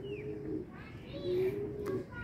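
Racing pigeon arriving at the loft, giving soft cooing calls amid faint wing and background noise, with a person murmuring nearby; brief and quiet.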